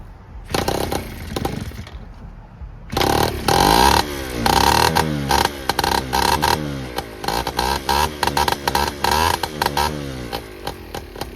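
A big bore Honda Express moped engine catches after a kick start and runs loud and close, a rough, rapid buzzing idle with revving bursts and clattery gaps after a brief sputter and pause.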